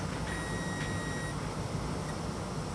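A multimeter set to diode mode gives a thin high beep, then a longer steady tone of about a second, over a constant background hiss.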